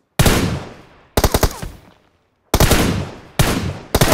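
Automatic gunfire from PUBG Mobile's training mode rings out in several loud, close bursts of rapid shots separated by short silences.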